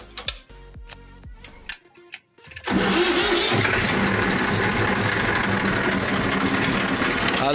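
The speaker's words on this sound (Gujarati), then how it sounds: "હાલો ટ્રેક્ટર વોર્મ અપ થઈ રહ્યા" A tractor engine starts and settles into a loud, steady idle as it warms up before sowing, after a few clanks and a brief silence, then running continuously close by.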